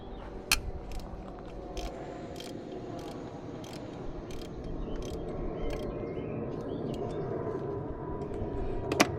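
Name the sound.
ratchet with 16mm socket working on Saab 900 bolt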